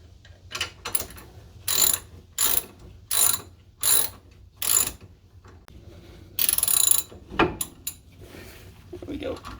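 A ratchet cranks out bolts on a Corvette C3 steering knuckle: bursts of rapid clicking repeat about every half second to a second, close and crisp, with a few clanks of metal parts near the end.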